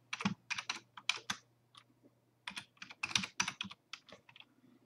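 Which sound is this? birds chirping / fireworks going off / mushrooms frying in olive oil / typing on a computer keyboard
typing on a computer keyboard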